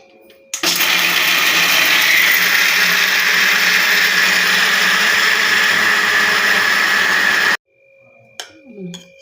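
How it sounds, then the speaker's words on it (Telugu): A mixer grinder grinds roasted peanuts into powder, its motor roaring loud and steady for about seven seconds before stopping abruptly, followed by a few faint clinks and handling sounds. "గ్రైండ్ చేసుకోవాలి"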